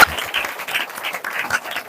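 A congregation at a Hindi-language church sermon on healing claps in thanks to God, a dense burst of applause lasting about two seconds, close and fairly loud, with no voices over it.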